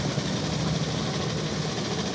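An old 250 Royal Enfield motorcycle engine idles nearby among vintage bikes setting off, a steady low rumbling putter with dense background noise and no clear gaps.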